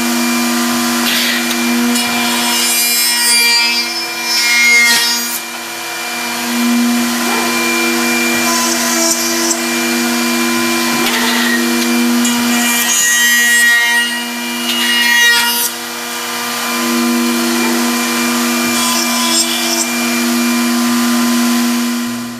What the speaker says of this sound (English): This view shows the machine running parts in 4 zones.